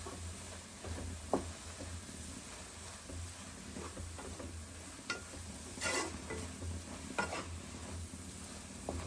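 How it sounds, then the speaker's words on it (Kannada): Fenugreek greens curry (menthya soppu palya) being stirred in a pan after salt goes in. Quiet, soft scraping with a faint sizzle underneath and a few small scattered clicks from the utensil. "ಇವಾಗ ಇದನ್ನು ಚೆನ್ನಾಗಿ ಮಿಕ್ಸ್ ಮಾಡ್ಕೋಬೇಕು"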